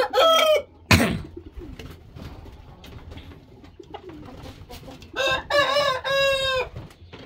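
A rooster crows loudly nearby at the start and again near the end, with chickens clucking softly in between.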